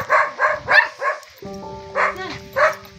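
A dog near a hillside house barks repeatedly up close, a quick run of four barks, then a few more after a brief gap.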